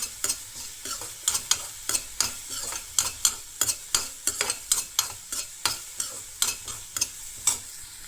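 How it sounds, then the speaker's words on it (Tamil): Vegetables for cauliflower manchurian being stirred and fried in a pan, a soft steady sizzle broken by rhythmic sharp scrapes of the spoon, roughly two per second, close and fairly quiet. "இது வந்து ஒரு 1 minute ஃப்ரை பண்ணால் போதும்."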